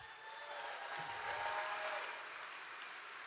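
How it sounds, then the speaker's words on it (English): Rally crowd applauding at a campaign event in Las Vegas, a dense sustained wash of clapping that swells slightly in the middle and carries on steadily, with some faint cheering mixed in. "Give him a round of applause."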